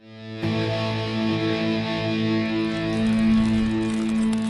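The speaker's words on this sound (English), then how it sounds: "crank up the distortion and play it as a power chord" A sustained, heavily distorted electric guitar chord rings out loud and steady after a brief quiet start, thick and buzzing with no voices.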